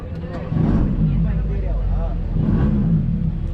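A car at an auto expo starts up and its engine settles into a steady low rumble with a slight rev near the end, while someone talks over it.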